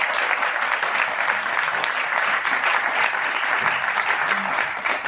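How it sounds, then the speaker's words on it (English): An audience at a post-show talk for a stage play applauds, dense, steady clapping close up for several seconds, fading slightly at the end. "Can we give a round of applause to Mindia for joining us?"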